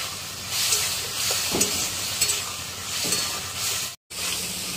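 Potatoes sautéing with a water-thinned spice paste in a pan, a steady close sizzle with scraping stir strokes throughout and a brief dropout near the end, no voices.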